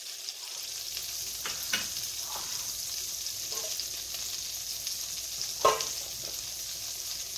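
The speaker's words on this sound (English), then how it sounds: "add a little bit more oil. And now I'm going to get this cooking again. It's got to get to the bubble stage." Mushroom sauce with added oil frying and bubbling in a pan, a constant close sizzle with a few light clinks of a utensil stirring, no talking.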